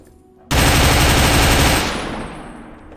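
A sudden, loud burst of rapid automatic gunfire from a weapon in the video game Fallout 3, blasting steadily for over a second before trailing off into a fading echo.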